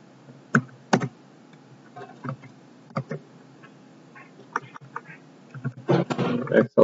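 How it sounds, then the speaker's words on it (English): Numbers are typed into a spreadsheet on a computer keyboard, giving sparse, irregular key clicks with pauses, then a quick denser burst near the end, heard close and alone. "Let's type in some numbers"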